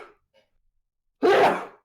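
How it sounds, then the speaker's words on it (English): A single loud, close sneeze bursts out alone after a faint intake of breath, sharp and noisy and trailing off over about half a second. "I'm going to sneeze."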